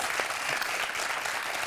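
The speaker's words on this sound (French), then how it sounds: "Je pense qu'on peut applaudir Sylvie." Game-show studio audience claps in a dense, steady burst of applause, fairly soft and brief, with no voices over it.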